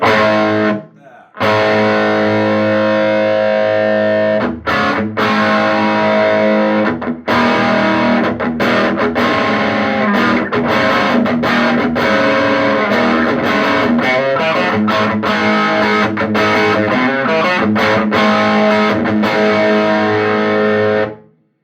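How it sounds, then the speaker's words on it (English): Electric guitar played through a Roland 405 tube logic amplifier with overdrive, loud distorted chords and riffs ringing out almost continuously with brief stops between phrases. "we should start to get some like overdrive-ish tones, right? Like that."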